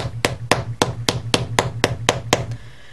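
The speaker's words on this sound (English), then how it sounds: "you can place this on your sandbag and hammer it some more" A metal wire bangle being hammered on a leather sandbag, nine sharp, evenly spaced taps at a quick steady rhythm, close and clear with no talk.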